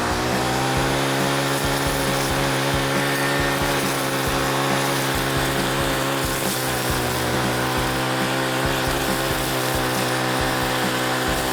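A petrol brush cutter fitted with a cutting blade roars at steady high revs, a loud continuous engine whine with a buzzing drone, cutting vegetation close by without pause.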